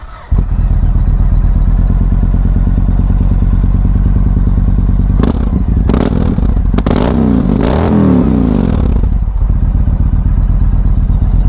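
A 2005 Yamaha MT-01 motorcycle ridden on the road, its big engine running loud and close throughout with a rough, tractor-like, shaking rumble. The pitch lifts and dips briefly with throttle changes amid wind and mechanical clatter.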